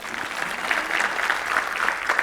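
Lecture audience in Panvel applauding steadily, a dense continuous patter of many hands at moderate loudness throughout, with no speech over it.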